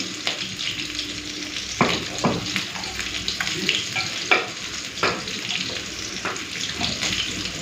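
Bhetki fish head and tail frying in hot oil, a soft continuous sizzle punctuated by scraping and stirring clatters of a utensil in the pan, with no voices.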